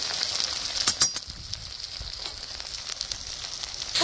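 Poppy seed paste sizzling in a hot pan while a Bengali-style vegetarian paneer curry cooks, a steady close crackle with brief sharper spits, no talk over it.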